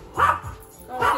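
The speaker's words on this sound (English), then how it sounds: "Who are you barking at?" A dog barks twice, about a second apart, fairly close and clear, with no talking.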